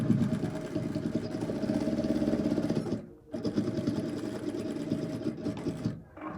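A sewing machine stitches cargo shorts fabric in a fast, steady mechanical whir, running continuously up close with two brief pauses.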